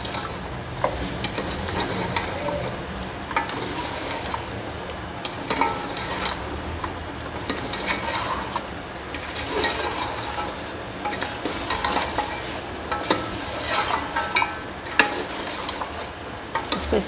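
Beef trotters (paya) being stir-fried in masala in a pot make a continuous sizzle, with frequent clattering scrapes and knocks from the stirring spoon throughout.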